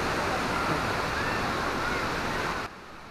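Daranak Falls in Tanay, Rizal pours with a steady, dense roar of falling water that fills the scene, then drops abruptly to a quieter wash near the end.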